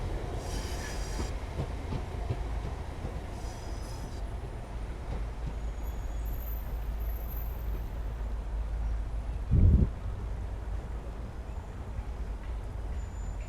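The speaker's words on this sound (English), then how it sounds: "Train coming out on the outside track." Simulated train rumbling along the outside track on the Cathcart Circle in Train Sim World 4, a steady broadband roar throughout with a brief louder thump of clatter near the end.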